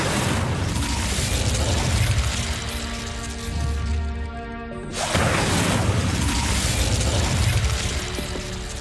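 The Incendio fire spell is cast in Hogwarts Legacy, giving a loud, sustained roaring burst of flame with a rumbling whoosh and a brief dip before the blaze swells again.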